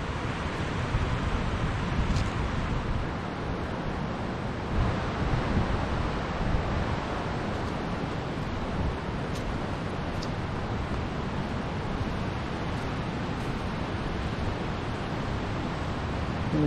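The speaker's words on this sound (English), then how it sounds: "Sound of the river is very loud." A loud, steady rush of flowing river water fills the scene, constant and broadband, with no voices over it, at a backcountry campsite in the Great Smoky Mountains.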